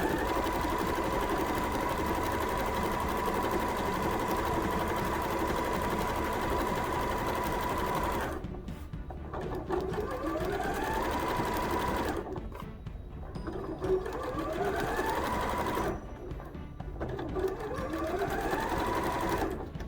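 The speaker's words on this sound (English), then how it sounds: "I'm back stitching, and now I'm going around, keeping it lined up." Sewing machine running steadily as it back stitches and sews around a jewelry pouch, a close continuous whir with a few brief pauses and restarts near the end.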